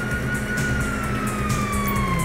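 Police sirens in the video game GTA V wail continuously with a slowly falling tone, loud and close over rumbling engine and road noise, with no speech.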